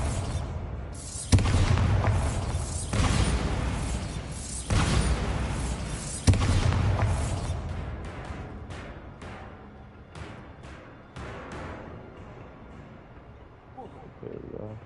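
Spell blasts from the Bombarda curse in Hogwarts Legacy, a series of loud booming explosions repeating every second or two, each with a sharp onset and rumbling tail, fading to smaller pops toward the end.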